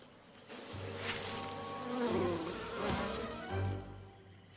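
Bees buzzing in a My Little Pony cartoon episode set in a bayou, a dense, continuous swarm drone that swells and ebbs in close, loud waves with no talking over it.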